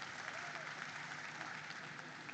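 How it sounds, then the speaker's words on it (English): Faint, steady applause from an audience at a celebrity steer show in the ring at the Ohio State Fair, sounding distant and continuous for a couple of seconds. "Round of applause as they come in."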